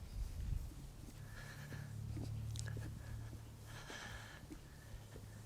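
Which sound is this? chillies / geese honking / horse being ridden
horse being ridden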